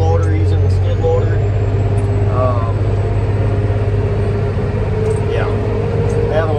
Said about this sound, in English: I'm driving the payloader, using the skid loader.